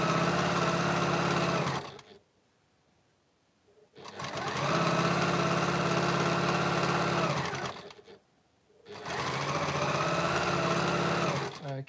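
A sewing machine stitches a sashing strip onto a quilt block in three steady runs, each a few seconds long, broken by short quiet pauses; the whirring motor is close and loud with no talk.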